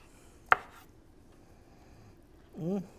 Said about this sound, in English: let's get a slice off this and see what it's like